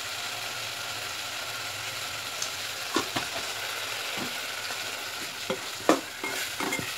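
Spices with ground coriander and salt sauté quietly in a pan for a vegetarian banana-flower kulambu, a soft sizzle under scattered clicks and scrapes of a spoon stirring, a few sharper knocks near the end.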